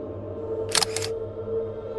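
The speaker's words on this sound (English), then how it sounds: "a camera shutter." A single camera shutter clicks once, a quick double snap, in an otherwise quiet room over a low steady hum.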